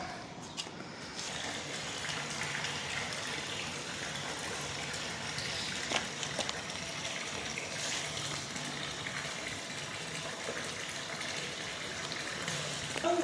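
Water gushes continuously from a single-phase pump with a steady, noisy rush that stays even throughout, with a few faint clunks.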